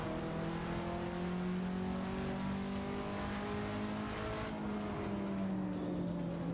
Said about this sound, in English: Ooh, that BMW's passing us.